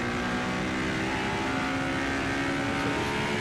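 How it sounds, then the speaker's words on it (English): A 1978 USAC Indy racing car engine heard onboard the Warner Hodgson Racing car at Silverstone, a steady loud high-pitched drone at full throttle throughout, with no talk. "listen to that beautiful engine"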